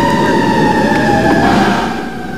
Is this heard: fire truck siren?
yes